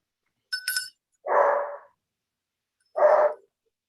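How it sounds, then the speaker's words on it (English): A dog barks twice nearby, each a single loud, full bark spaced well apart, following a brief bright chiming or ringing sound at an outdoor ritual gathering; no one talks over it. "And a dog."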